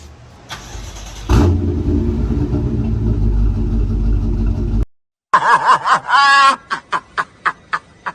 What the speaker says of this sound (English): Now let's go ahead and do a cold start for the boys.